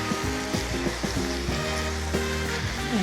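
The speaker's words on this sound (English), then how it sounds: "So giving those a good stir, trying to get that onion up off the bottom" Potatoes and onion stirred in a hot pan for an Indian potato, pea and mustard greens dish, giving a steady close sizzle with bursts of scraping and clinking as the spoon works the bottom.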